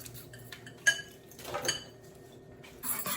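Cream cheese being whisked in a pot with a fork, giving faint, intermittent metallic clinks and scrapes against the pot, close and quiet, without talking.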